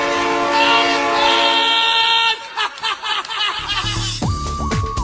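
Rumbling train noise from two joined moving trains on a Team Fortress 2 Halloween map, with clattering and a loud horn blast toward the end, sounding synthetic and game-like, with no talking.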